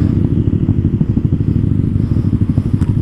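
A motorcycle engine idles loudly up close, a rapid, even low putter with slight throttle pulses and no talking.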